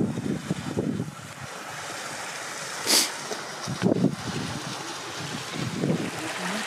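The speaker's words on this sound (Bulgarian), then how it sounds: "тече кристално чиста вода" Rushing mountain stream of crystal-clear water on a Rila Lakes hike, a steady broadband wash with brief louder splashes and gusts, close to the microphone and with no voices.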